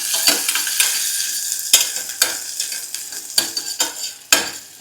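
Crushed ginger and garlic fry in hot oil for a mushroom masala, giving a crackling sizzle broken by frequent sharp scrapes and knocks of a spoon stirring against the pan.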